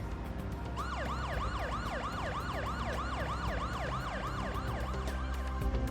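Police car siren in the video game Parasite Eve, wailing in rapid repeated up-and-down sweeps over a dense music and engine backdrop, loud and continuous.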